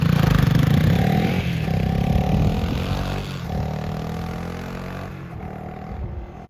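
Engine of a 2022 Honda CRF300L dual-sport motorcycle while riding through a neighborhood and on trails, a steady close droning hum with slight shifts in pitch, continuous with no talk.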